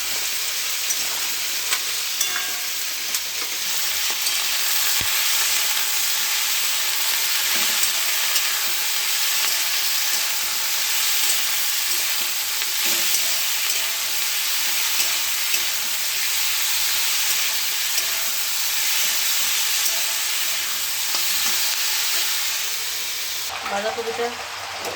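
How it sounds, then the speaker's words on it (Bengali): Potatoes seasoned with salt and turmeric half-fry in a small kadai, stirred now and then; a steady, close, continuous sizzle and hiss runs unbroken throughout. "আলুটাকে একটু আধ ভাজা মতন করে নিই।"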